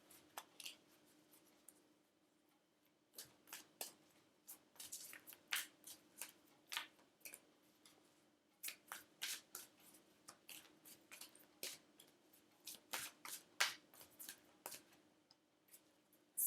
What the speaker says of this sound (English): Lily, I want to try and shuffle these.